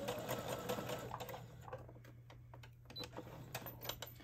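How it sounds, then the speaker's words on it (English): Sewing machine running along a raw fabric edge for a V-neck, a close, steady whirring stitch with a low motor hum and light clicking, pausing briefly midway before resuming. "Now that I have the crease, I can go ahead and sew that raw edge."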